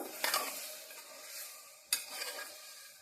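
Rosy dock greens, stems included, fry in oil while being stirred, giving a soft steady sizzle with two sharp spatula scrapes against the pan, close and fairly quiet.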